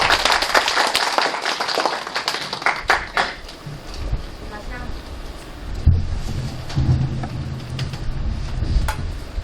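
An audience at a Mapo District Council event clapping, a burst of applause that fades after a few seconds, followed by quieter room noise and a voice talking.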